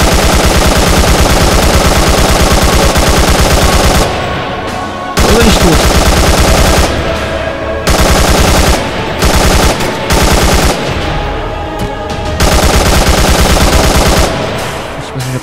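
Gunfire in the Arma 3 video game: loud, sustained automatic bursts with short gaps between volleys, close and dense throughout.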